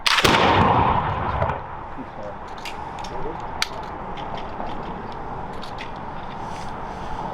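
A ceremonial volley fires in a George Washington salute, opening with one loud, close blast that rolls off into a long echoing rumble, followed by faint clicks and mechanical handling sounds with quiet surroundings.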